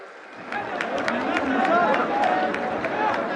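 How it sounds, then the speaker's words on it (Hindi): Applause for a Kashmiri shawl presentation at a public ceremony in Jammu and Kashmir, with a crowd clapping steadily and building in loudness, a dense wash of hands under a hum of voices. "जोरदार तालियां हर तरफ से"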